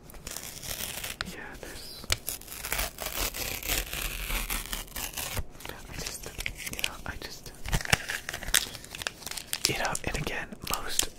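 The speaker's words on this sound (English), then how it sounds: "Stickers, fucking stickers." Stickers are peeled and crinkled close up, a steady stream of papery tearing and crackling that runs the whole time under soft, whispery talk.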